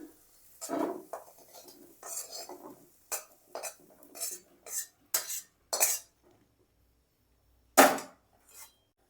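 Fried potatoes are scooped from a frying pan into a bowl, with a string of separate sharp metal scrapes and clinks from a spoon on the pan, close and unevenly spaced with short gaps between them.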